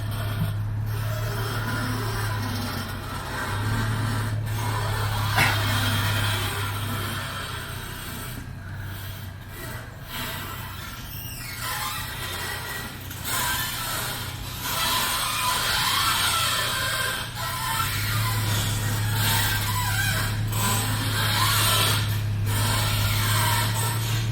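Continuous creaking and squeaking of a Toyota FJ Cruiser's suspension, with rubbing mechanical groans and a steady low engine hum underneath.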